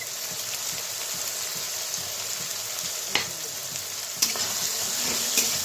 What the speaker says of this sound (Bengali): ভালোভাবে নেড়ে চেড়ে কষিয়ে নিব